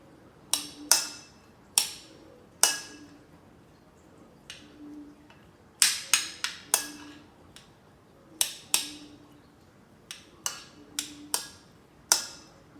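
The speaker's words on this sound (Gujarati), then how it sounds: "આ બધું હલાવી નાખવાનું." Spoon stirring a bowl of finely chopped vegetables, cucumber and tomato, for a vegan baked vegetable boat filling; sharp intermittent scraping clinks come in irregular bursts, close and fairly quiet, with no talking.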